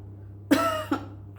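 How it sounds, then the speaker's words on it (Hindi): A person coughs twice, close and sharp, a strong first burst followed by a shorter second one, over a steady low hum. "थ्रोट को पकड़ के खांसेगा,"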